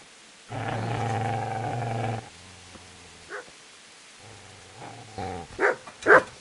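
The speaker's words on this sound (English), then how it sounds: "Get away, you mutt!" Dog in Kingdom Come: Deliverance, a long deep growl at close range followed by quieter rumbles and a few short sharp barks near the end, with no voices.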